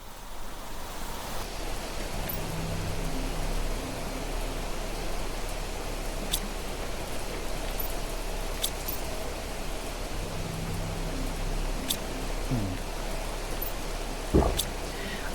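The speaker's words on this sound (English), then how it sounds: "We are at toxic rain or acid rains." Green toxic acid rain falling in the video game Planet Crafter makes a steady, even hiss of rainfall that runs alone throughout, with a brief faint knock near the end.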